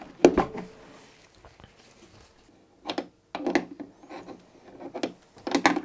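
Guitar pots and a switch pushed into the wooden body of a semi-hollow guitar during a pickup swap: close, scattered bursts of scraping and rubbing knocks separated by short pauses.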